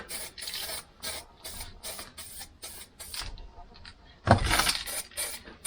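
Repeated short hissing bursts of spray paint onto metal in a quick rhythm, then a longer, louder blast near the end.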